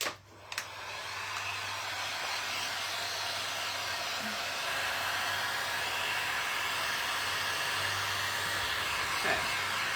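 A hair dryer blows steadily and close on fresh paint on a knife block, a constant loud whooshing hiss that runs unbroken for the whole stretch after a brief start-up.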